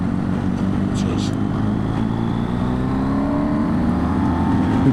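A BMW R1250GS Rallye TE motorcycle pulls hard on an open road, its engine a loud, steady drone rising in pitch under rushing wind, with a rider's voice briefly in the mix.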